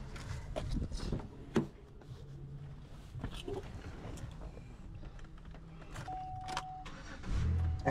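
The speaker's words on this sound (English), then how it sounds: "Let's see if this car starts." A Buick Rendezvous with a crank-no-start fault cranks and then starts, a steady mechanical churn followed by a louder surge as the engine catches near the end, heard up close.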